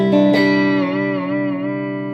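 Clean electric guitar notes through a Vox VT40X amp ring out with a smooth, shimmering tone and light reverb, a plucked chord sustaining and gently wavering.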